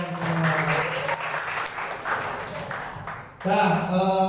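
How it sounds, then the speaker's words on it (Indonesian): An audience of participants at a community outreach session claps together, with a voice heard over the applause at the start and again at the end. "tepuk tangan buat kalian semua"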